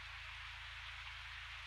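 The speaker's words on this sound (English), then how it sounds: "the soft, broad sound of the rain on the leaves and the river" Night rain falls steadily on leaves and the river in the Amazon, a soft, even hiss that stays faint and unbroken throughout, with a low hum beneath it.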